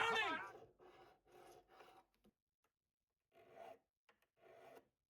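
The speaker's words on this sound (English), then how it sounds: "After seating the frets, they were definitely in need of re-leveling. I'm crowning!" A file rasps over guitar frets while crowning them, a series of short, close strokes in uneven bursts with pauses between, quiet and without talk.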